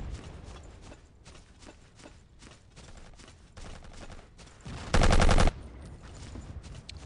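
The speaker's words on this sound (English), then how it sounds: "I'm holding the German assault troops machine gun" A German assault trooper's machine gun in Battlefield 1942 fires bursts of rapid shots under ongoing battle noise, with one louder, closer burst near the end.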